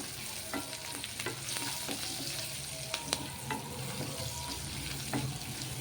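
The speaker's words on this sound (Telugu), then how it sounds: "పసుపు ఇది అల్లం ఎల్లిపాయ పేస్ట్ కొంచెం కొంచెం పచ్చివాసన పోయేంతవరకు కలుపుకుందాము" Ginger garlic paste with turmeric frying and being stirred in a pan, a continuous close sizzle broken by repeated scraping strokes of a spoon at an irregular rhythm.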